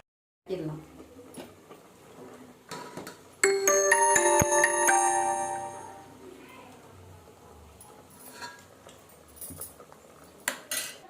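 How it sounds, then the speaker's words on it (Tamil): A spoon scrapes and knocks against a cooking pan while red ponnanganni greens are stirred, with a burst of bright metallic clatter in the middle and someone talking at times. "ஃப்ரெண்ட்ஸ் சட்டியில் குத்தி கலந்துக்கணும்"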